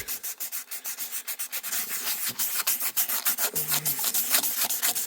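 Rapid rhythmic hand rubbing of 400-grit sandpaper, close up and steady, a fast back-and-forth scratching stroke repeating throughout with no voices.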